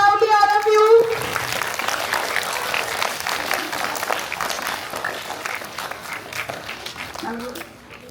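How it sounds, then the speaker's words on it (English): A school audience at a Founders Day celebration claps loudly as the director comes onto the stage, a steady crowd clapping that follows a brief tone and carries faint voices beneath it. "Yes, clap loudly all of you."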